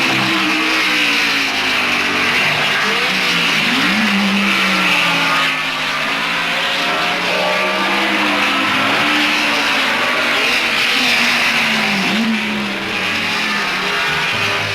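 Vintage racing cars lapping a 3-mile circuit in a Jack Brabham-era race, engines droning loud and continuous with rising and falling pitch as cars pass, no voices.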